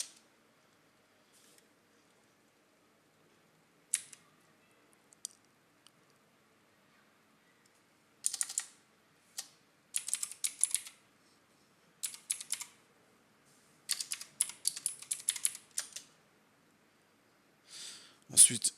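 Clusters of crisp keystrokes clatter on a computer keyboard, arriving in short bursts separated by quiet gaps, close and fairly faint.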